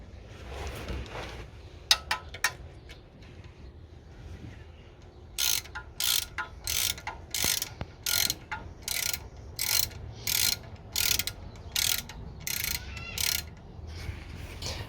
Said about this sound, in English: we'll just remove all the bolts and hopefully the sump will just drop